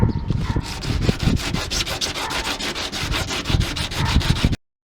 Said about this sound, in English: going to take a little 60 grit to it and try to get some of that rust off of it